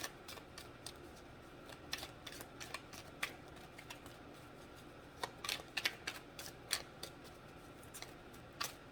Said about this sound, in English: Try and pay more attention to how I shuffle so that it's not like too haphazard